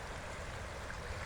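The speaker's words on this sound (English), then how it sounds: "again with our friend the Ontelaunee Creek" Ontelaunee Creek in New Tripoli, Pennsylvania, flows with a steady, broad rushing wash of water, continuous and fairly close, with no voices.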